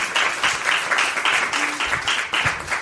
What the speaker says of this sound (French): je pense qu'il y a un petit applaudissement est mérité